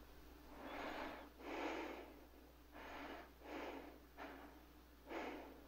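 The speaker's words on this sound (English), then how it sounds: "We can hear his natural breathing instead of the assisted breathing heard in some of the space shots." A sleeping man breathes naturally and slowly in 2001: A Space Odyssey, each breath a soft, airy swell at a steady rhythm of about one per second, close and quiet with no talking.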